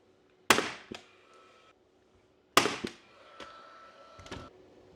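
A cable tie gun tensioning and cutting a cable tie, with two sharp close snaps a couple of seconds apart, each followed by a short ratcheting rattle, in an otherwise quiet room.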